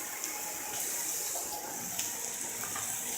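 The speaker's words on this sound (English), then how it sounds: "And now I'm going to add a little bit of water." Water pours from a kitchen tap into a dish being cooked, a steady soft gushing stream running continuously and close with no talk.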